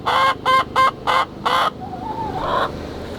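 A few chickens clucking close by at a chicken coop, five sharp bursts in a quick series followed by a softer drawn-out warble.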